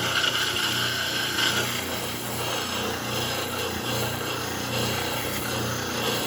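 Steady scraping and rasping of hand sanding on wood, continuous and close, with a gritty back-and-forth texture and no talking.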